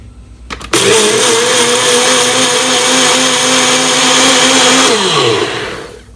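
A loud electric blender grinding eggshells starts up and grinds steadily for several seconds, its motor pitch shifting slightly, then winds down and stops.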